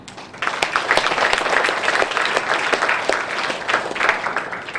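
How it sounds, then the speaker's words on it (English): Dense, sustained applause from an audience at a vegetarian forum fills the room, steady and fairly loud throughout with individual claps poking out of the wash, no voices over it. "a big round of applause for be vegan to feed the world"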